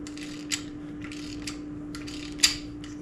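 A wrench works a welded nut to free a bolt on a motorhome, giving short rough ratcheting and scraping bursts at uneven intervals over a steady low hum.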